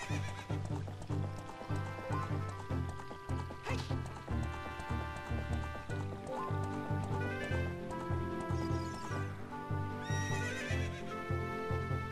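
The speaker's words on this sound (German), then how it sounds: "Na komm, mein Pferdchen" A horse neighs and whinnies in the video game The Legend of Zelda: Ocarina of Time 3D. Several whinnies play with clip-clop hoofbeats over looping game music.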